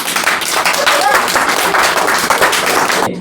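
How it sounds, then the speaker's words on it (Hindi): Loud, dense applause rewards a correct answer in a science quiz lesson, many hands clapping continuously at close range before stopping abruptly at the end. "इसके लिए भी ताली बजा दिया जाए"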